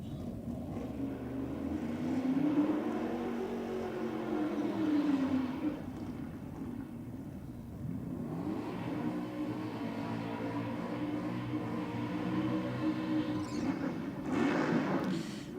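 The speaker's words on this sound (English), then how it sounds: "Yeah, it did sound nice and smooth in the burnout." A nitrous-fed drag racing car does a smooth burnout at Sydney Dragway, a loud sustained engine roar that rises and falls, swelling early on, settling into a steady drone, then surging again near the end.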